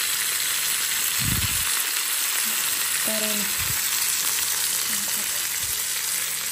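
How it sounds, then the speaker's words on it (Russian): Chicken sizzles and crackles steadily in a hot pan, a dense continuous frying hiss with a few soft clanks and thumps from stirring. "Это жарится будет."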